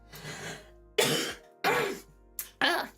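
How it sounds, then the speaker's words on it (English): Several hoarse coughs from a person with a lingering cough, about four bursts in three seconds, close and fairly loud, with short silences between them. "I still have that damn cough."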